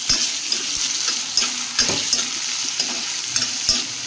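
Chopped onions and spring onions frying in a pan for fish curry, a steady loud sizzle with regular scraping stirs of a spatula, close up and with no talking.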